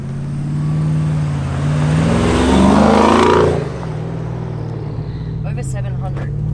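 An Aznom Palladium SUV's twin-turbo V8 of over 700 horsepower revs and accelerates with a rising roar that swells then fades as it shifts, followed by a voice reacting briefly near the end.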